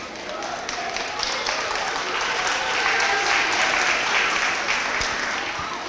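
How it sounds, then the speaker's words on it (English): Sustained applause from an audience for students honored at a school academic awards ceremony, steady broadband clapping that swells slightly midway and continues throughout. "You can give them each a round of applause because that's a pretty big honor for one kid out of every class."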